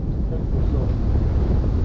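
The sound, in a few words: wind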